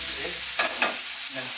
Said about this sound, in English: Fry off the onion